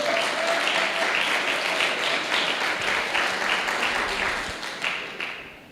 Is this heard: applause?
yes